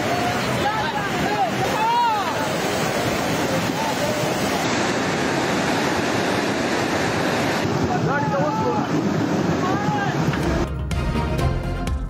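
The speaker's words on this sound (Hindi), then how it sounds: "बडकराम के इलाके थाकोट में शदीद बारिश के बाद सैलाबी रैला उमड़ आया" A flash flood torrent surges through the Thakot area after heavy rain, with the market turned into a river. The water makes a loud, continuous broadband roar, with faint voices calling out now and then beneath it.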